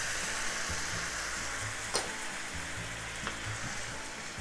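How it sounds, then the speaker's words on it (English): Chicken sizzles and fries steadily in a pan with butter, sugar, mirin and soy sauce, a continuous close crackle with a couple of brief stirring scrapes and no voices. "Give it a mix and keep cooking for another 2 minutes or so."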